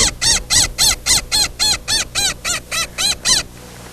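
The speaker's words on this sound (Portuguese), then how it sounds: "Esse é o periquito?" A parakeet squawks close and loud in a fast, regular series of about a dozen harsh calls, evenly spaced and then stopping abruptly.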